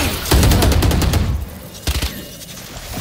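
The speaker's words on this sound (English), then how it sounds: "Placing swarm grenade." A Valorant swarm grenade goes off in a fast crackling cluster of small pops and thuds, loud and close, then fades before a brief second burst.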